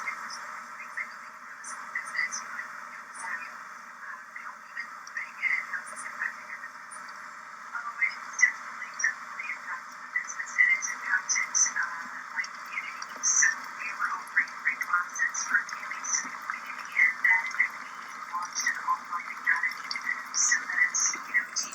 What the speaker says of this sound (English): That's my kettle boiling this morning.